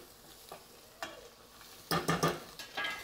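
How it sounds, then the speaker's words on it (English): Blackened scallops cook in a hot pan with a soft sizzle, broken by sharper bursts of frying crackle and a few light scrapes and stirs near the end; no one speaks. "I'm gonna flip back over to the scallops. Okay, we'll let these kind of cook down a little bit."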